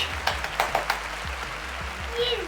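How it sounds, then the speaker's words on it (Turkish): Scattered hand claps at a small home birthday-style celebration after candles are blown out on a cake, a few close claps over a low steady hum, with faint voices in the background. "Alkış."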